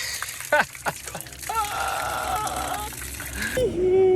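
Water gushing from a church water tap in rural Georgia, a steady broadband rush that swells near the end, with voices exclaiming over it.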